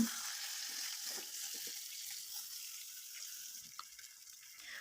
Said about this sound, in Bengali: ভাজা করে মাছগুলো দিয়ে ভেজে নেব